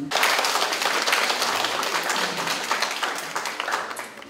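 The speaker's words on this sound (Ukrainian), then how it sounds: "давайте ми привітаємо їх оплесками теплими, теплими" Warm, sustained applause from a hall audience at a school's 50th anniversary celebration, dense continuous clapping close and full, tapering slightly at the end.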